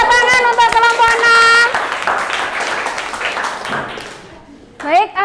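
Students in a physics class clap hands for a presenting group, a brief burst of clapping mixed with voices and lively talk that fades out, followed by a teacher speaking again.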